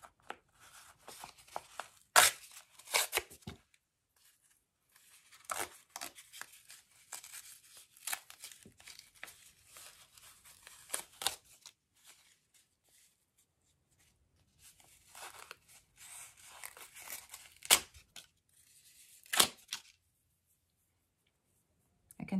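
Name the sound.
tearing cards along the perforation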